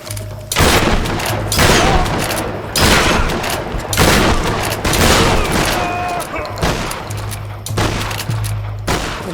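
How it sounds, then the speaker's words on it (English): Gunfire from the video game Tomb Raider, dense bursts of shots and booms repeating across the clip, loud and close, with people talking over it. "Who are you shooting at?"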